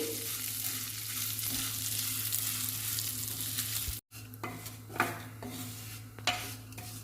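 Vermicelli frying in ghee sizzles steadily in a pan, a dense continuous crackle, then after a brief break stirring resumes with occasional scraping knocks of the spoon against the vessel.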